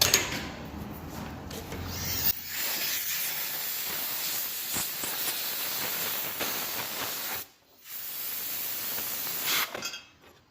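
A Coleman 502 camp stove burner gives a continuous, close, breathy hiss. It dips briefly once partway through and then carries on steadily, with faint rubbing noises and no one talking.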